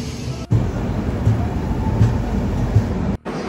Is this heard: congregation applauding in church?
no